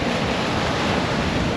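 Surf surging against a rocky shore at Hiriketiya beach, a steady, dense roar of breaking waves close by with wind buffeting the microphone throughout, no voices.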